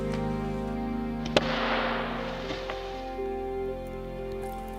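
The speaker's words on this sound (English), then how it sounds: "If you need to break thick but dried sticks, you can just hit it to the rocks" Thick dried sticks struck against rocks in a forest camp: one sharp crack near the start, then a scrape and a faint second knock, all over a steady background hum.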